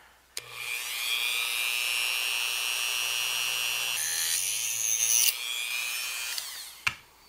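A small power tool cuts through a tag strip for an EL34 tube amp power supply, giving a steady high whirring grind that shifts pitch partway through, bracketed by sharp clicks when it starts and stops.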